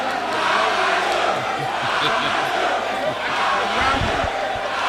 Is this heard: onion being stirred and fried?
no